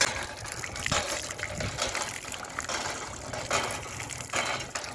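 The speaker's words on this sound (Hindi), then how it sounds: "तो यहाँ का जो नल का पानी है ये जल है एक तरह से" Tap water gushes steadily from a faucet outdoors near a river, a continuous broadband rush with small splashing variations, fairly loud and close, with no talking.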